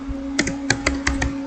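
Typing on a computer keyboard while entering stored procedure code, about six quick close clicks in an uneven rhythm over a steady low hum, with no talking.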